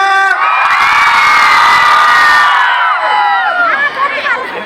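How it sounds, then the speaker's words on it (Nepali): A large crowd at a stage event erupts in loud cheering, whooping and high-pitched shouting, a dense roar that swells for a few seconds then breaks into scattered individual yells. "एकचोटि हल्ला सुनिदिउँ त।"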